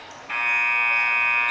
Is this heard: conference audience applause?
no